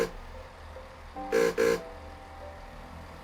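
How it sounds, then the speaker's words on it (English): Two short buzzing electronic tones in quick succession, moderately loud, over a low engine hum: the new guard buzzer of a Class 165 or 166 train in the video game SCR (Stepford County Railway). "New guard buzzers have been added to the Class 165 and 166."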